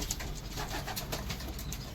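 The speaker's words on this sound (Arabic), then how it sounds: "الحمام ده كله طاير" Pigeons at a loft coo and flutter as a flock takes off, with soft wing flaps and low calls blended into a dense, steady outdoor wash.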